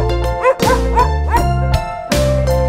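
Cartoon dog barking sound effect in a children's nursery rhyme song, several bright yips in quick succession over bouncy music.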